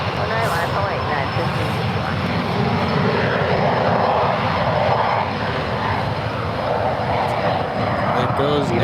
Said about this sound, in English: There goes a Gulfstream 150.